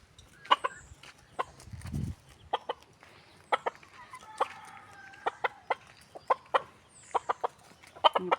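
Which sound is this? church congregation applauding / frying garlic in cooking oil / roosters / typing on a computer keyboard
roosters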